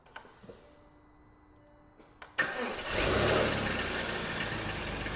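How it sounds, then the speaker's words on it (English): A VW Touareg starts by remote start: a few faint clicks and a chime, then the engine cranks and fires with a sudden burst before settling into a steady idle. "I actually think this car has a remote start."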